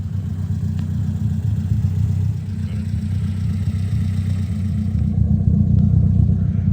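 A Toyota Celica on the road during its first drive, its engine a steady loud low rumble with constant road noise throughout and no voices.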